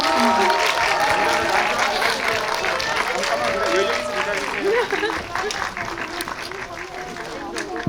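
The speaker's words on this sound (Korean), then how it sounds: "이쪽으로 퇴장하시는 동안 박수로 보내주시도록 하겠습니다." Audience at a film premiere talk event applauds as the cast exits, dense clapping and crowd noise mixed with an amplified voice talking over it throughout.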